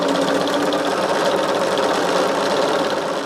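A sewing machine runs continuously while stitching quilt pieces for a Christmas gnome pattern, a steady loud whirring hum with a rapid needle rhythm and no talk.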